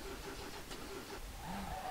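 A Nissan R32 engine runs in the SLRR racing game on the Nordschleife while the car is badly mangled, a low, rough idle that sputters and flutters briefly, heard alone.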